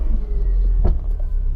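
Peugeot 106 with a five-speed manual gearbox and cable-operated clutch on a test drive, giving a steady low engine rumble with a brief mechanical swell partway through.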